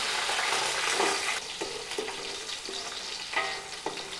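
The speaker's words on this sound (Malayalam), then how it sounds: "വറ്റൽ മുളക് ഇട്ടിട്ടുണ്ട്, കരിയേപ്പില, കുറച്ച് വെളുത്തുള്ളി ഇട്ട് കൊടുക്കുക." Dried red chillies, curry leaves and garlic fry in hot oil for mango pickle, giving a continuous close sizzle broken by regular stirring scrapes at roughly half-second intervals.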